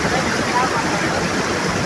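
A strong creek swollen after a typhoon rushes in a dense, constant roar of turbulent water, loud and close with no pauses.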